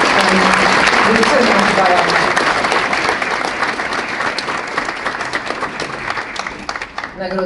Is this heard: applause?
yes